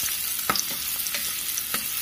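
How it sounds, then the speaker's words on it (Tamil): Shallots sautéing in a pan for sambar, a steady sizzling hiss with a few sharp spatula scrapes at intervals, close and moderately loud, no talking. "சின்ன வெங்காயம் லைட்டாக வதங்கினதும்"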